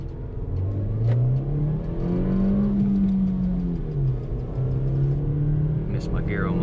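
A 2022 Nissan Versa S with a five-speed manual gearbox accelerates, its engine rising in pitch, dipping at a gear change, then climbing again as a steady cabin drone.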